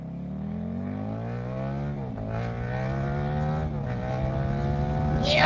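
A KTM SuperDuke 1290 motorcycle ridden in sport mode, its engine droning loud and close with a rising pitch as it accelerates, shifting twice before climbing again to a sharp peak at the end.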